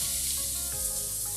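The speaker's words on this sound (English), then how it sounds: "Into the frying pan we go." Onions and garlic sizzle and crackle steadily in a hot frying pan, a close, bright hiss throughout with a faint low hum beneath.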